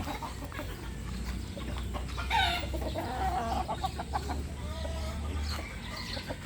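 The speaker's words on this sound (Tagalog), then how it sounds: "Nag-aabang na ang ating mga inahin" Hens clucking and cackling close by, with an overlapping stream of short calls over a low, steady background rumble.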